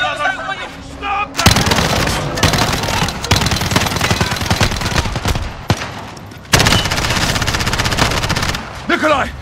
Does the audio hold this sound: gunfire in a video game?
yes